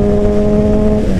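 Honda CBR 600RR motorcycle engine holding a loud, close, high-pitched rev with a steady whine that dips slightly near the end.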